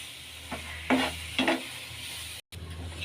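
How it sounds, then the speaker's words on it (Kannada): A mango and coconut laddu mixture is stirred and roasted in a pan, giving a few distinct scraping strokes over a soft sizzle, with a brief dropout near the end. "ಸೊ ಇನ್ನು ಚೆನ್ನಾಗಿ ತಳ ಬಿಡೋ ತನಕ ಗಟ್ಟಿ ಆಗೋ ತನಕ ಹುರ್ಕೊಳ್ಳೋಣ."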